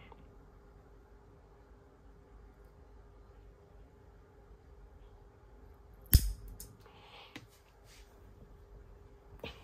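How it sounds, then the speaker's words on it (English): A fiber optic rod for a gun's front sight gets cut with one sharp snip near the end, standing out against steady low background hum. "Now you just want to cut it on the other end."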